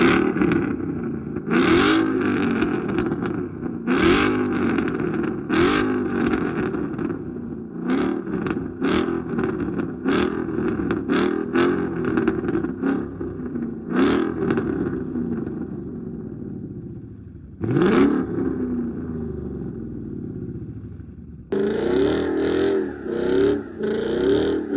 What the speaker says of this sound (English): so I can rev the car for y'all